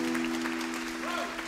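An audience claps continuously in a hall, the applause steady and fairly loud, with a held musical tone sounding beneath it.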